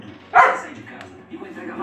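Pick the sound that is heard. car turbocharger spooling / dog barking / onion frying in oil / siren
dog barking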